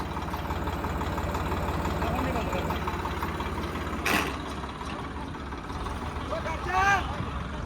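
Steady low rumble of a tractor engine running during a Swaraj 855 versus Farmtrac 60 tug-of-war pulling contest, continuous and fairly loud, with a crowd shouting and talking over it and a brief louder burst near the end.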